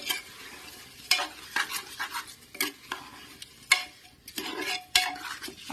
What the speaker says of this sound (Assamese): এতিয়া অকনমান সময় চাউলখিনি ইয়াতে ভাজিম।